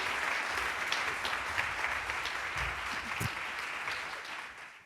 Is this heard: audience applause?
yes